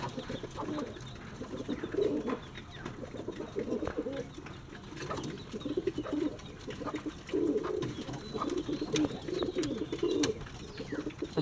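Moulting pigeons, several hens among them, coo in repeated low rolling bursts over a steady background hum, close by and moderately loud, with occasional faint voices.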